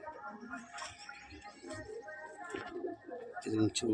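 Madrasi pigeons coo in soft, repeated throaty bursts close by in a loft, with a rustle of other birds and movement around them.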